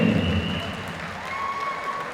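An indoor crowd applauds a medalist at a schoolboy and schoolgirl boxing championship, a steady wash of clapping with a sustained tone running over it.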